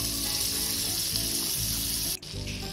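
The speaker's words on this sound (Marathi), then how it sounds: "गॅसवर मी एक पॅन ठेवलेला आहे, यामध्ये मी आता एक मोठा चमचा बटर घालून घेते" A big spoonful of butter melts in a pan on a gas stove for sweet corn soup, giving a loud steady hiss that dips briefly near the end.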